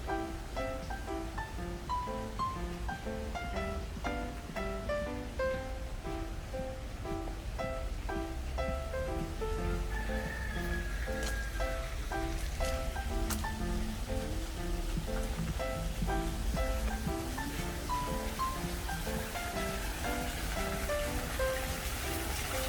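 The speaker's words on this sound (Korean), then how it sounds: "물소리가 아주 좋습니다" Steady flowing water at a cafe beside a bamboo grove rushes continuously, with faint birdsong and musical tones layered above the constant wash.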